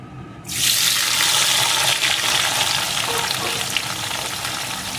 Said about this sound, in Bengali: এখন আমি কেটে রাখা টমেটাগুলোকে এর মধ্যে দিয়ে দেব